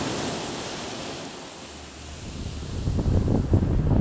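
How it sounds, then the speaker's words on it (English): Strong wind roars over the microphone while large ocean waves crash and surge in stormy, rainy weather in Alaska, building louder toward the end. "Windy, stormy, rainy. We got big waves."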